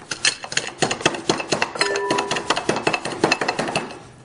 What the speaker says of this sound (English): And then I'm just going to crush some coriander seeds.